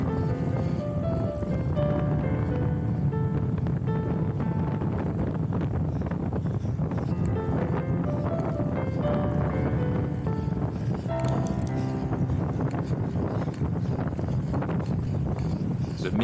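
Wind gusts across a flat outdoor racetrack during a velomobile race at Darley Moor, a constant loud rushing buffet on the microphone that covers the whole stretch, with no talking.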